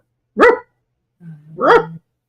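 A dog barks twice, the first a short sharp bark and the second preceded by a low growling rumble that builds into a louder bark, close and clear with no talk over it.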